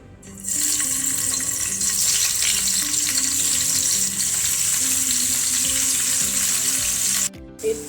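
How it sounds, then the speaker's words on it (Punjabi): Coated paneer fries in a pan for dhaba-style chilli paneer, making a loud, steady hissing sizzle that runs for about seven seconds before it suddenly stops. "ਪਨੀਰ ਦੇ ਆਪਾਂ ਥੋੜਾ ਇਹਨੂੰ ਬਰਾਊਨ ਕਰ ਲਵਾਂਗੇ"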